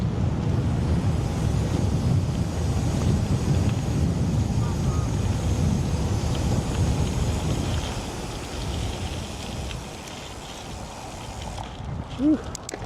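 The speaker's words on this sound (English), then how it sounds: "Oh, this headwind. Not cool." A strong headwind buffeting the microphone outdoors in Phoenix: a constant loud, low rumbling roar that eases slightly toward the end, with voices faintly under it.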